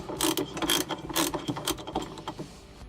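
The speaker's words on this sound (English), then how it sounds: "there's a 17 millimeter socket that's on here. You have to hold on to the rotor and loosen it" A ratchet with a 17 mm socket loosens the rotor bolt on a Samsung washer motor that will not spin, making a series of close, crisp pawl clicks in quick uneven bursts.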